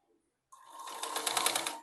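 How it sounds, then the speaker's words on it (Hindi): Sewing machine stitching a belt-style blouse, a steady close whirring run of about a second and a half that starts abruptly and stops, with no talk. "ऐसे एक सिलाई दे देंगे।"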